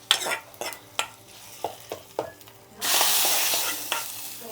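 Onions for chutney frying in a pan, a series of sharp stirring knocks and scrapes over a low sizzle that swells into a loud, continuous hiss of frying near the end, close up with no voices.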